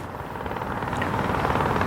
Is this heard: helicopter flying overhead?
yes